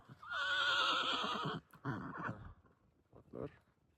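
A horse whinnies loudly and close by for over a second, its pitch wavering, followed by softer snorts and a short second call.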